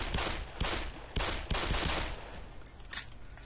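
Weapon shots in the video game Black Mesa, several loud close bursts spaced unevenly over about three seconds, with no speech.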